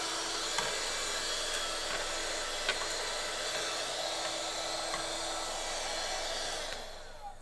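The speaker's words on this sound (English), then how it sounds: "I'm gonna use the Hoover again." Hoover vacuum cleaner running steadily and loudly indoors with a constant broadband whine, motor note holding for several seconds before tapering off at the end.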